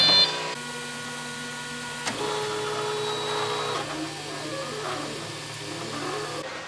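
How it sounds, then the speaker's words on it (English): A 3D printer runs steadily with whining stepper-motor tones that shift pitch as the head moves, a continuous mechanical hum close by with no talking. "We have to wait for the 3D printing anyway"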